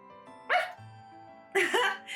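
A voice imitates a dog in a French romance game, giving a short yap, a pause, then a quick pair of higher yelping barks, close and fairly quiet, with faint background music between.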